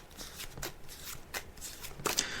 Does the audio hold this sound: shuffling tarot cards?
yes